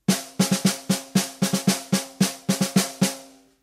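Snare-like drum hits work through a double stroke roll exercise, bouncing the second 16th note partial, mixing single strokes with quick doubled pairs in a steady pattern; dry, close and unaccompanied.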